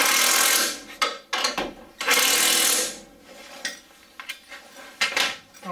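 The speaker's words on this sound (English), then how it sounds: "Right, just need to tighten the bolts at the top." A ratchet tightens the top strut mount nuts on a Ford Focus front suspension, giving bursts of metallic clicking and rattling separated by short pauses, close and fairly loud.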